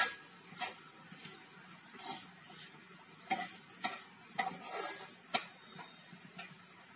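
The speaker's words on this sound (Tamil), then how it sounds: "நல்லா கிளறி விட்டுக்கிட்டே இருக்கணும்." Semolina and banana stirred in ghee in a pan for banana rava laddu, a spoon scraping in repeated, uneven strokes over a soft sizzle, close and clear with no talking.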